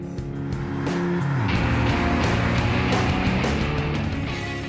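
A current Volkswagen Golf hatchback drives along, its engine note rising steadily under loud, continuous road and tire noise, heard close throughout with no talking.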